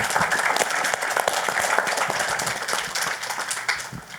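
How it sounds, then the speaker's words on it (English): Audience at a Washington DC conference on financing Ukraine's wartime stability applauds, a continuous wash of many hands clapping at even strength from start to finish. "It deserves another round of applause, please, for Commissioner."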